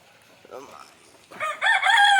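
Country chickens let out of their coop in the morning: a low cluck comes first, then a rooster crows loudly nearby as the clip ends.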